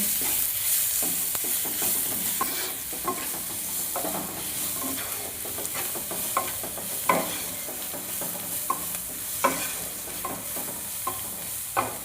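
Ground spices with red chilli powder, turmeric and salt fry in a pan for a vegetable chop, a soft steady sizzle broken by scraping stirs and occasional clinks of the spatula.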